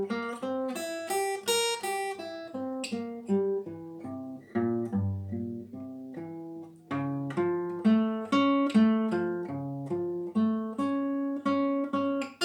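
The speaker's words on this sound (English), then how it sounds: "augmented triad from the flat 2 would sound something like this" An augmented triad built from the flat second is played note by note in a quick succession of bright, ringing pitched tones, forming an improvised-sounding melodic line with no talking.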